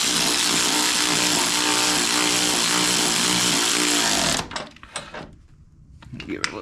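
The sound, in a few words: cordless ratchet driving bolts down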